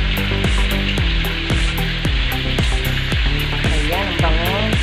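Chicken pieces frying in hot oil in a pan for chicken with coke, a steady close sizzle that runs the whole time, crossed by repeated clinks and knocks from a utensil and faint higher tones over the frying.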